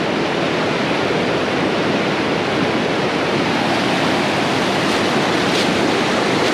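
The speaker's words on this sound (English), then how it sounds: "can you guys see the water bouncing off all the rocks going down the hill there?" Pond water drained by a Hyundai HX85A excavator rushes down a hillside over rocks, a steady, loud broadband wash of flowing water with no pauses and no voices.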